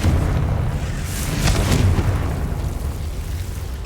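Confringo blasting spell detonating in Hogwarts Legacy, a sustained booming explosion with a rumbling low roar and a brighter burst near the middle, loud and continuous throughout.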